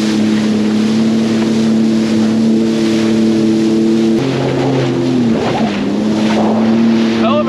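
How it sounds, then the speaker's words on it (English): A loud, steady engine hum as a ship comes in on a busy Great Lakes shipping lane off Niagara's north coast, carrying over wind and choppy water hitting a boat, its tone shifting partway through as voices speak nearby. "We have a ship coming in right now."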